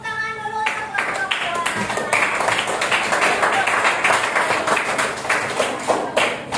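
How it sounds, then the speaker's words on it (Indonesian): Elementary school class applauding a student group, many small hands clapping quickly and unevenly in a classroom, close and fairly loud for several seconds after a brief spoken line. "Tepuk tangan dulu untuk kelompok"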